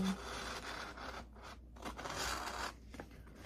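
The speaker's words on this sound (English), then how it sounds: "I'm also going to cut down these 4 seams." Scissors cutting down the seams of a plastic takeout bag, producing a soft, continuous crinkling scrape with brief pauses, close by and fairly quiet.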